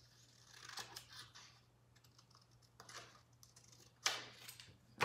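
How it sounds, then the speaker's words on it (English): Paper for a kids' craft is trimmed with scissors, giving several quiet, crisp snips in short bursts with gaps between, the sharpest cut coming near the end, alone without talk. "So mine's a little too wide, so I'm going to trim it."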